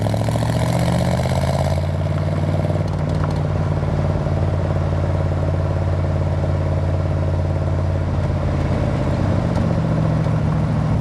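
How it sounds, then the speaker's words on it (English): A 1969 Chevrolet Corvette with its original 350 V8 and Muncie 4-speed manual runs at a fast cold high idle, a loud, close, continuous burbling rumble with a slight clatter that holds steady for several seconds. "it's still on high idle right now because it is cold"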